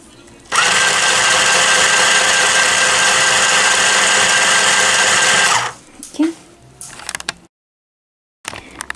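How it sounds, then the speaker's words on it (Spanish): A sewing machine runs steadily for about five seconds, stitching through the three layers of a Minnie Mouse quilt: the top, the batting and the backing. It is loud and close, then stops, followed by brief handling noises and a short silence. "Entonces vamos a seguir cosiendo."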